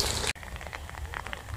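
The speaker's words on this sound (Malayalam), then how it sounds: "ഇന്ന് നല്ല മഴയാണ് കേട്ടോ." Rain falling in Samarkand, Uzbekistan, near the old architecture around Registan Square: a brief burst of dense hiss that cuts off sharply, then softer patter of drops on surfaces, close and steady, with no speech.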